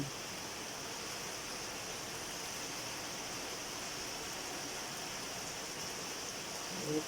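Steady rain from Typhoon Ompong pours down in a continuous, even hiss, with no voices and only a slight rise at the very end.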